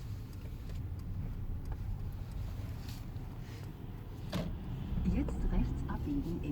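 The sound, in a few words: Mercedes EQS electric car driving on a bumpy road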